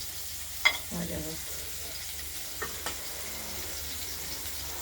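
Rui fish pieces sizzle in a pan, a faint, continuous frying hiss with a few sharp clinks as the pieces are turned, a short voice early on.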